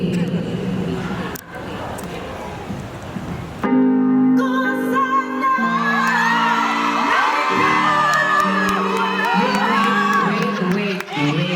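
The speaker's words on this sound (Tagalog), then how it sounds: "Kung sino yung gusto nyo, doon kayo papalakpak na may kasamang sigawan na." A live audience at a Saturday-night show in Paris whoops, yells and cheers loudly over music after a brief quieter start, a dense sustained crowd roar with shrill shouts.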